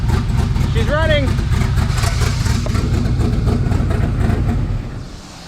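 A twin-turbo LS-swapped DeLorean DMC-12 running rich, its engine idling with a steady low rumble, while a voice calls out briefly over it before the sound drops away near the end.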